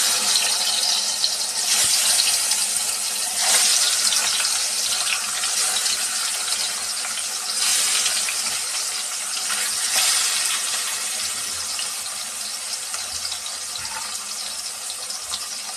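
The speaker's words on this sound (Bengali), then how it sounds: "এখন আমি মাছের টুকরোগুলো দিয়ে ভেজে নেব।" Pieces of fish fry in hot oil for a fish curry with pumpkin bori, giving a steady, loud hiss and crackle that runs throughout without talk.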